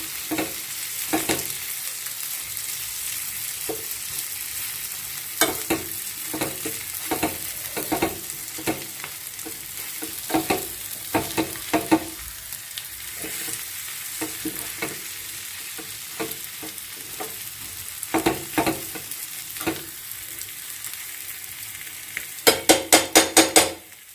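Samosa filling is stirred in a frying pan, a low sizzle broken by frequent spoon scrapes and taps against the metal, ending in a quick burst of rapid knocks.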